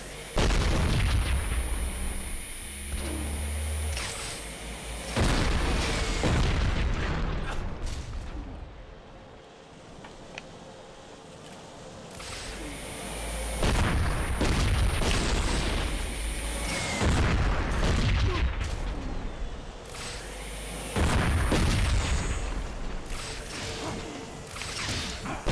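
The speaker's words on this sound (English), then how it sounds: "And I can shoot the missiles." Missiles launch and explode in the action game Too Human: dense, loud bursts of booming blasts and mechanical whooshes that surge in waves, fade briefly near the middle, then return with heavy rumbling impacts.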